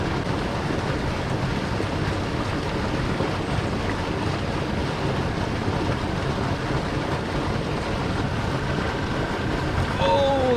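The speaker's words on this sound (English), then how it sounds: "This water's pretty loud." Loud creek water rushes steadily and close by, a dense broadband roar that fills the whole stretch without letting up, with faint rustling on top near the end.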